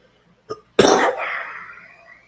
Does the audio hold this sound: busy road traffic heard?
no